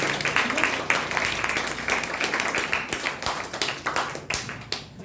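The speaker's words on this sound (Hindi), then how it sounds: "डिक्शन के लिए एक बार जोरदार ताली" An audience at a gathering claps in a dense, sustained burst of applause that gradually thins toward the end, with a voice faintly underneath.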